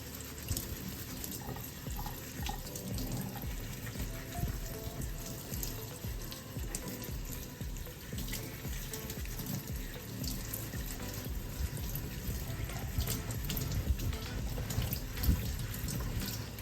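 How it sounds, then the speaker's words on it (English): Tap water runs steadily while shampoo is rinsed out of hair at a sink, a continuous close splashing rush with uneven spatters, heard alone and without talk. "we wash it with our shampoo to make sure it's fully clean"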